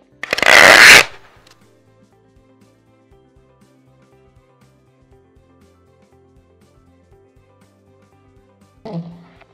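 A strip of packing tape pulled off the roll in one loud, close, ripping screech lasting about a second, then a long quiet stretch and a shorter tearing sound at the end, fixing a graphic to a retractable banner stand.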